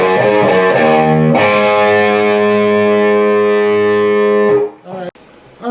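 A heavily distorted electric guitar plays a bass line, with a few quick plucked notes and then a long sustained ringing note that fades out before a brief noise.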